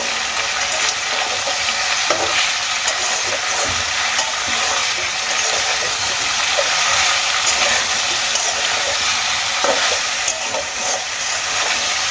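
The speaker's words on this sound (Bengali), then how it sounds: "স্বাদ মতো লবণ আমি দিয়ে দিয়েছি এবার খুব ভালো করে সবজির সঙ্গে মিশিয়ে নেবো" Vegetables with salt being stirred and fried in a pan for Bengali shukto with bori, a steady close sizzle running throughout with occasional soft scrapes of the stirring spoon and no talking.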